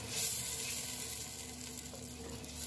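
Sardines sauté and sizzle faintly in a pan while being stirred for ginisang monggo with sotanghon, a soft steady crackle with light scraping and no voices.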